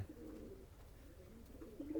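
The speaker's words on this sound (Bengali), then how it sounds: "এটা চুহা কবুতরের একটা ফিমেল বাচ্চা আছে" A chuha pigeon on a pigeon farm gives a soft, low, continuous cooing, quiet and steady for about two seconds with no talking.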